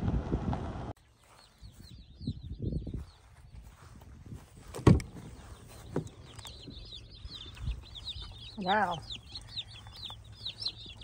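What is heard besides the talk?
broiler chicks peeping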